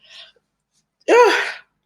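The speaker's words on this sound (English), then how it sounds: "that was a half sneeze" A soft intake of breath, a brief pause, then a single sharp, stifled sneeze burst close by, cut short.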